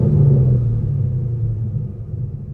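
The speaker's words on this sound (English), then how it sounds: "Let's rev it real quick." A supercharged 2012 Corvette Z06 engine rumbles loud and close. It holds a deep, steady low drone that eases slightly toward the end rather than climbing in sharp rev peaks.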